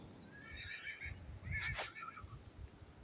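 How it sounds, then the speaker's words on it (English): A horse whinnies in the distance, one drawn-out, wavering neigh rising over a quiet outdoor background. "Horse in the background."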